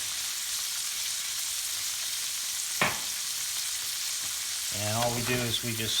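Green beans sauté in a metal pan with garlic powder, giving a steady, close crackling sizzle with a brief clatter midway; a voice starts talking over the frying near the end.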